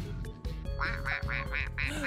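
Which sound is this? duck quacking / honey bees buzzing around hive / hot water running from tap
duck quacking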